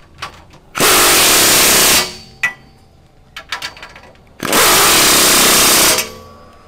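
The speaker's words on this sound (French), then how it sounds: "on va bloquer les deux derniers boulons" A power tool drives in the last two bolts of a tow hitch on a Fiat X250 camper van, two loud sustained bursts of about a second each, close by, with clanks and rattles of handling between them.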